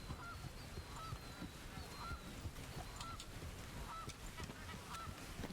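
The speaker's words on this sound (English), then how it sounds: "Sounds like there's some ducks nearby." Wild waterfowl honking and quacking at intervals from some distance across a steady outdoor ambience in the Red Dead Redemption 2 hunting game, with brief bird calls scattered throughout.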